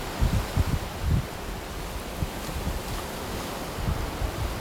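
Ocean surf rolls onto the Gulf Coast beach at Surfside, Texas, a continuous washing roar with a few low wave thumps and wind buffeting the microphone, no talk.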